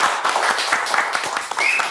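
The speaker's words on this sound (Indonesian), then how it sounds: "Luar biasa, tepuk tangan dong guys." Brief burst of hand clapping and light applause from a small group at a Free Fire esports team show, dense and steady with a faint voice mixed in underneath.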